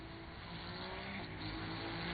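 Race cars lap Le Mans in a video game, engines droning together in a steady, dense roar with tyres locking up under braking; the sound stays constant and slightly swells toward the end.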